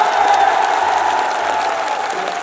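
Crowd at a large public rally applauding in a steady, dense wash of clapping that holds evenly loud throughout, with no voices standing out.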